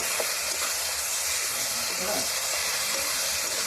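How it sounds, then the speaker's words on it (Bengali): Ginger-garlic paste frying with chicken in a pan for a village-style chicken kosha: a loud, continuous hiss of sizzling oil and steam, close up, with no clear talking. "এর মধ্যে আমি আদা বাটা রসুন বাটা পেস্টটা দিয়ে দিলাম"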